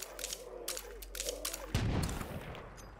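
Defensive towers fire steady gunfire in State of Decay 2, with repeated sharp shots in a dense stream and a heavier burst near the end, mixed with game ambience and faint talk.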